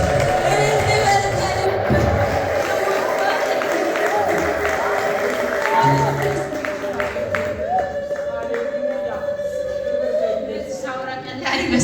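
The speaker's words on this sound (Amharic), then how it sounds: "እስቲ እልል በሉ ከልብ" A church congregation ululates and cheers with loud, overlapping high trilling voices and clapping, strongest at first and then easing off.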